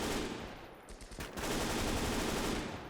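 MG 34 machine gun firing in the World War II game Gates of Hell during close-quarter fighting in Stalingrad factory halls: dense, loud bursts of automatic fire with a short lull near the middle, then sustained firing.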